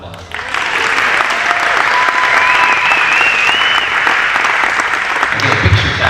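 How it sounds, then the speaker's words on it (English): Steady audience applause fills a school athletic awards ceremony, loud and continuous with dense clapping and a few whistles rising through it, before tapering off near the end. "So let's give him a round of applause."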